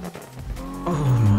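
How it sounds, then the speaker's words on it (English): Nissan Skyline R34 engine in a Need for Speed 2015 mod, a low rumbling idle that swells into a louder rising rev near the end, heard alone without talk. "we are here in my R34, and this is an example of the updated sound."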